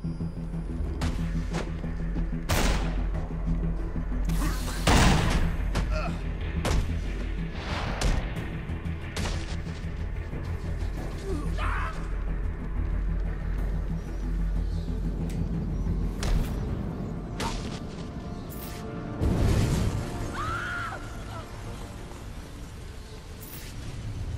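An oil truck explodes on a bridge in the video game Batman: Arkham Origins, with heavy booming blasts and crashing impacts scattered over a rumbling, debris-filled din and no voices.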